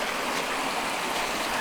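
Water rushes steadily over a small waterfall on Saw Mill Branch, a Maryland stream, giving a close, continuous broadband wash with no pauses or voices.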